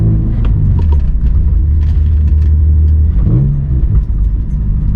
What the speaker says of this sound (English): And the car is not warm yet, as you guys can see in here, so we're gonna take it easy.